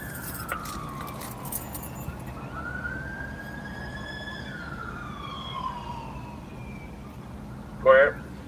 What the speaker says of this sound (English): Yeah, I hear the sirens.